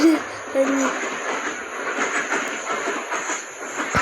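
A train in a 3D video game rumbles past with a steady hiss and rattling wheels, loud and continuous, with a brief high whistle-like tone near the start.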